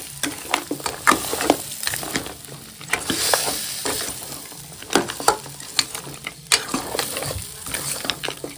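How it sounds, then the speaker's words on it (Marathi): Spice masala stir-fried in a pan, a continuous loud sizzle broken by frequent scraping and clinking strokes of the spatula against the metal, close up with no talking. "मसाले परतून घेऊया."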